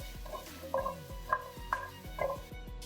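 Wagyu beef and vegetables frying in a pan, with steady close-up sizzling broken by a few sharp scrapes and stirring knocks as the food is moved around, with no talking.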